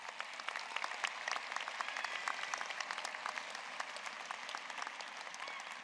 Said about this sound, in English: So let's give President Hanbury a round of applause.